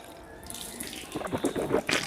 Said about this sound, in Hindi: सबसे पहले हमें 3 मरतबा हाथ धो लेने हैं